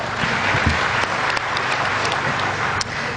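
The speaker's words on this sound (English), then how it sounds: "So give him a big round of applause." Audience applause for a panelist at a Union Budget 2018 analysis event, a continuous wash of clapping with a few sharper individual claps, fairly loud and steady throughout.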